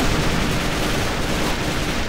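Sustained rapid gunfire from an alligator-patterned gun in the shooter game AVA, a dense continuous burst with no break and no talk.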